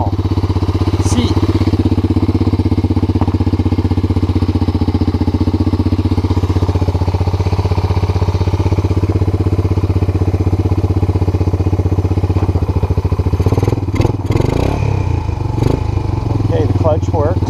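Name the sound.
Honda Four Trax TRX250 ATV engine running during test ride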